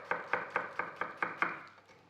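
A sharp knife slicing a raw red onion on a board, seven evenly spaced crisp chops in quick rhythm, close and fairly quiet, with the last few strokes fading.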